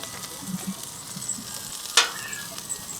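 Onion frying on a flat-top griddle gives off a steady, close sizzling hiss, with one sharp metallic clink near the end.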